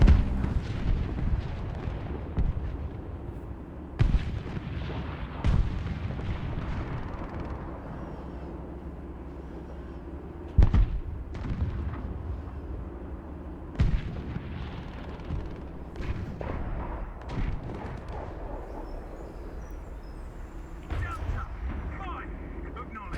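Artillery barrages in the tank game War Thunder, a series of heavy booming blasts at irregular intervals with a constant low rumble of engine noise underneath, loud and close, with speech also present.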